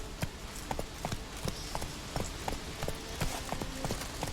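Roach the horse gallops in The Witcher 3, its hooves beating a steady, quick clip-clop rhythm at moderate loudness, close by, with no voices.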